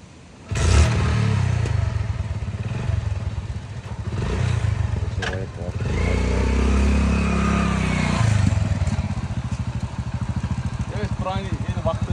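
A Hero Honda motorcycle engine revs and runs steadily close by, its low rumble rising and falling, with a clattering rattle throughout and a voice talking over it.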